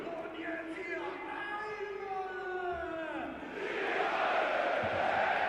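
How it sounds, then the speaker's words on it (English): A football stadium crowd at a 3rd Division match between TSV 1860 München and Hansa Rostock chants in unison, then swells into a loud, broad roar of cheering. "Listen to the crowd, absolutely loving it."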